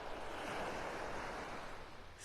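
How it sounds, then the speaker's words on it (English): Small waves lap on the calm Gulf shore at Vanderbilt Beach in North Naples, Florida, a steady, soft wash of surf with light breeze noise and no speech. "Just a few little waves lapping up on the shore."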